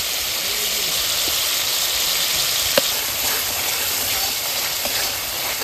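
Kasundi mustard sauce with turmeric and sugar sizzles in hot oil in a pan for a pomfret dish. A loud, steady frying hiss runs throughout, broken by a single faint clink.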